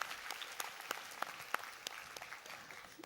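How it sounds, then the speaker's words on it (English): An audience claps together in a warm round of applause, a dense patter of hand claps with a few louder individual claps standing out, steady and moderately distant throughout. "So just give yourselves a big clap there."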